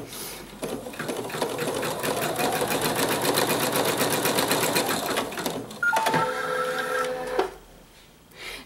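A computerized embroidery sewing machine stitches an owl mug rug in a fast, steady, loud mechanical run that lasts most of the clip, then shifts into a brief stretch of electronic beeping tones before settling.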